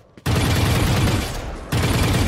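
A Vandal rifle in a tactical shooter video game firing a rapid sustained burst, loud and close, a dense continuous rattle that stops briefly and then resumes.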